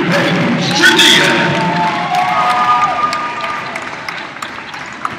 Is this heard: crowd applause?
yes